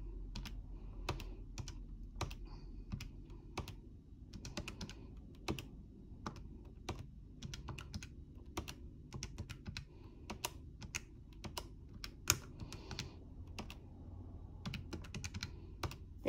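Rapid, irregular clicks of calculator keys being pressed one after another while entering data, crisp and close, with a faint hum underneath and no talking.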